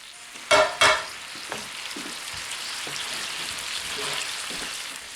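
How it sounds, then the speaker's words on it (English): Spinach wilting in a pan for creamy chicken Florentine, a steady sizzle with two loud scraping stirs near the start, then softer occasional utensil taps. "go ahead and cook the spinach for a couple of minutes until it starts to wilt"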